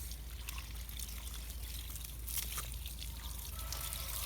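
Water trickles steadily over a low background rumble, a soft continuous splashing with no voices.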